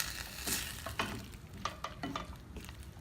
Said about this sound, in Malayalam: ഗ്രേവിയും മഷ്റൂമും കൂടെ നന്നായിട്ട് മിക്സ് ആവുന്നത് വരെ ഇതൊന്ന് ഇളക്കി കൊടുക്കണം